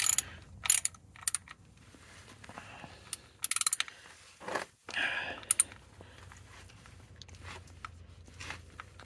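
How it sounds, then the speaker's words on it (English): Ratchet tightening the oil drain plug on a Ford Escape, heard as several quick bursts of close, crisp clicking with short pauses between them and a faint low hum underneath. "I'm gonna tighten it back down because we don't want to go driving down the road and lose the drain plug."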